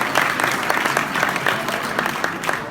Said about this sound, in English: How about a big round of applause for Paul Krikoria?